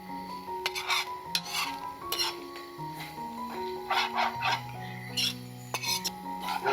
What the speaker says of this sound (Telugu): అల్లాన్ని ఇప్పుడు మంచిగా వేయించుకోవాలండి నూనెలో వేయించుకోవాలన్నమాట పల్లి నూనె వేసాం